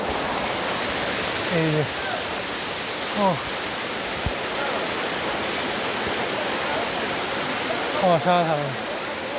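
Spray and roar from Katiki waterfall form a dense, constant rush close by, with a few short voices speaking over it.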